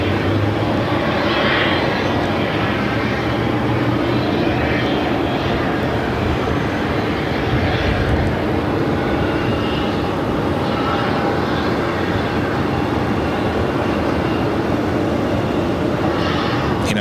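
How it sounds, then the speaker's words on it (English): An American Airlines Airbus A321 arrives at Phoenix from Dallas with a steady, loud jet roar that holds unbroken throughout, broad and rushing without pause. "It's American Airlines flight 1155 coming in from Dallas on an A321."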